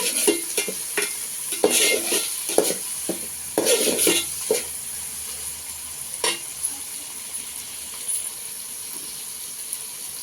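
Tomatoes frying in oil in a pan for lentil sambar, with a steady sizzle broken by irregular clinks and scrapes of stirring, some louder bursts early on and quieter frying afterward.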